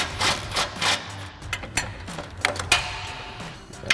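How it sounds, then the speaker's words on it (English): An 18mm swivel socket ratchet on an upper control arm bolt of a Ford F-150 truck, quick bursts of clicking with short pauses, close and fairly loud, no talking. "Now we can remove our 2 upper control arm bolts. So we've got an 18mm swivel socket and extension for our bolt head"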